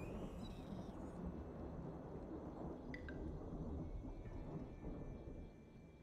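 Deep rolling thunder rumbles through a lightning strike in the god-simulation game Universim, with sharp crackles near the start and middle over a low, continuous roar.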